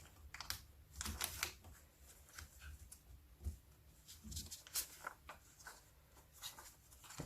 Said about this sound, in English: Then we fold it back up again.